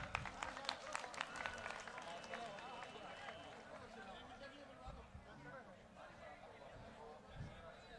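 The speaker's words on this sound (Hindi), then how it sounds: "तालियां बजाकर स्वागत करें सभी।" Crowd at a public welcome for the deputy speaker during a chief minister's event in Julana, Haryana, clapping in a loose, moderate round with murmuring chatter and scattered voices throughout.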